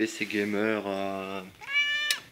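A cat meows twice close by indoors at a PC setup, the second call rising clearly after a man's speech.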